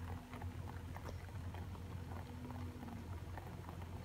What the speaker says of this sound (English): the raindrops are just going boop, boop, boop, just like pop, pop, pop, pop, pop, pop. Just little sprinkles.